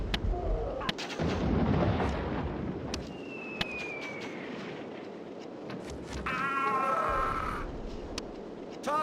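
Battle gunfire and artillery from a naval video game boom and crack in dense repeated bursts, loud and close, with a layered rumble of explosions throughout.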